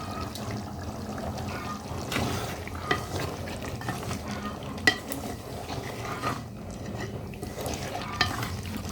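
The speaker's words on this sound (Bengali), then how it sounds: "কচুগুলো দিয়ে আর একটু কষিয়ে নেব সব মাংস আর কচু সহ" Beef and taro being stirred and fried together in a pan, a steady sizzle under scraping spoon strokes with a few sharper clinks, close and moderately loud, no talking.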